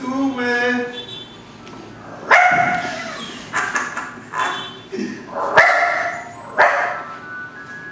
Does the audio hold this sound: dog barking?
yes